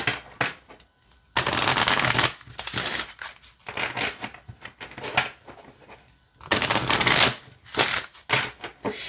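Several bursts of square oracle cards being shuffled, crisp riffling and flapping in quick runs separated by short pauses, close and fairly loud.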